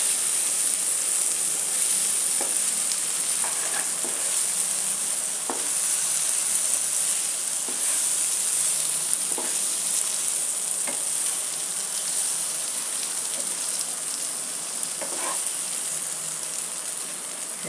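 Stuffed okra (bharli bhindi) fries gently in a pan, an even, continuous hiss and fine crackle with occasional soft stirring taps, close by and uninterrupted by speech.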